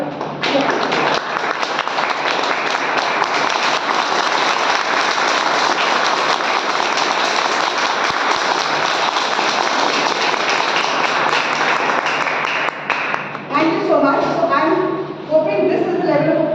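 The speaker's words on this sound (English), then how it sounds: "Otherwise, let's clap." Audience applause fills a Toastmasters meeting, a dense, steady wash of many hands clapping at full volume for about thirteen seconds before it cuts off and voices take over near the end.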